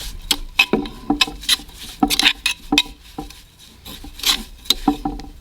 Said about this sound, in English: just give it a subtle pound here and mix it really good with a spoon